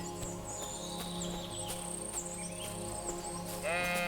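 Sheep in Kingdom Come: Deliverance II bleat repeatedly in a tonal, wavering chorus over a steady low rural ambience, ending with a rising bleat.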